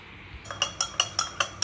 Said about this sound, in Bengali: ব্যাস একটু নাড়িয়ে নিলাম